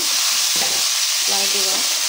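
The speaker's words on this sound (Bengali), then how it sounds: "কপিটাও ভাজা হয়ে গেছে, এখন আমি ডগগুলো দিয়ে দিই" Cauliflower and its stalks frying in a pan, a loud, constant sizzle that fills the whole clip, with a faint voice briefly in the background.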